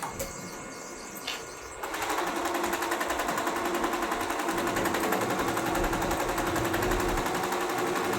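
A computer embroidery machine stitches a butti design, starting up after a quieter moment and then running in a steady, loud, fast continuous rattle of needle strokes with no talk.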